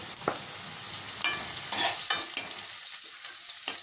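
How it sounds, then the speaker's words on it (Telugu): A large onion frying in a pan with green chillies and curry leaves, a bright steady sizzle broken by several sharp spatula scrapes and stirs, close up and loud, no talking. "ఒక పెద్ద ఉల్లిపాయ ఇది ఫ్రై చేసుకోవాలి"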